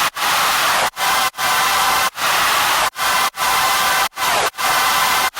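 Bursts of loud, steady white noise hiss, each lasting under a second, broken by short silent gaps, with no voices.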